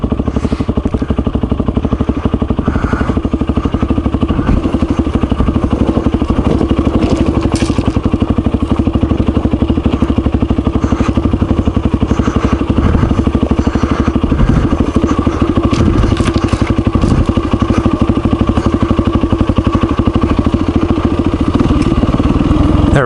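A Kawasaki KLR motorcycle rides on a benefit-ride trail, its engine droning loud and continuous close by with clatter and thumps from the rough terrain.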